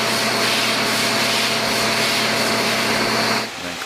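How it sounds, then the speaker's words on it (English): A vacuum cleaner works over a tiled floor with grout, a loud, steady high-pitched whine and roar that drops away near the end. "Clean it, vacuum it without getting water all over the place."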